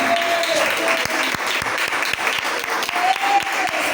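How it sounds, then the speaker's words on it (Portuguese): Steady applause from a church congregation, continuous and fairly loud for the whole stretch, with a faint sustained tone drifting underneath. "Aplauda Jesus."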